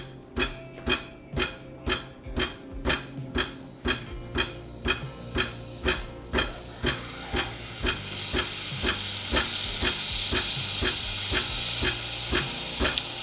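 Steam wand of a Breville Cafe Roma espresso machine purging: a run of about fifteen sharp rhythmic puffs of steam, then a continuous loud hiss over the final seconds, close by with no talk.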